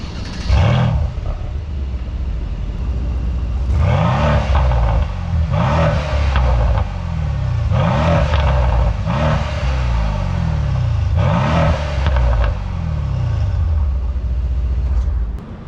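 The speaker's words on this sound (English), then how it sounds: "I'll start it up, Sport Plus, race mode, give you some revs" A V8 car engine in Sport Plus race mode, loud and close, repeatedly revving in sharp rising bursts, about seven throttle blips over a steady idle rumble, with no voices.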